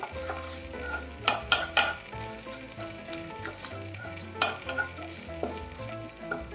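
Grated coconut fries in hot oil with a steady sizzle, broken by sharp clinks and scrapes of a spoon stirring against the pan, close and without speech.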